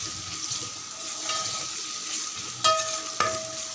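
Onions frying with salt in a pan, a steady hiss of sizzling oil with light stirring scrapes and a couple of sharp metallic clinks near the end.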